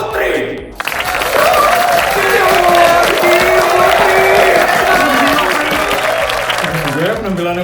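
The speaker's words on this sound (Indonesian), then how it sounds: "beri tepuk tangan yang meriah untuk penampilan dari King dan Putri" Loud, sustained crowd noise at a red-and-white costume contest performance, with applause and cheering blended into a dense wash and voices and music-like tones running underneath throughout.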